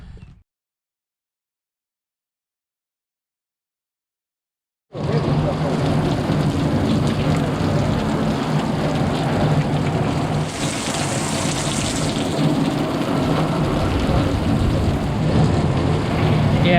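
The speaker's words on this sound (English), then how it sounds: "It is pouring. So, we got a buttload of rain." Heavy rain pours outside during a thunderstorm, a dense, loud, steady roar that starts abruptly after a few seconds of silence and continues to the end.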